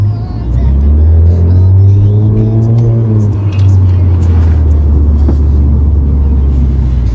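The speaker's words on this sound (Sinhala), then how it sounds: "ඉතින් අපි බලමු මේ වාහනේ කොහොමද එක්සෝස් සිස්ටම් එකේ සවුන්ඩ් එක කියලා." A Toyota C-HR with a 1.2-litre turbo engine revs loudly up close through its exhaust. The pitch climbs and holds, then falls back to a low, steady idle rumble.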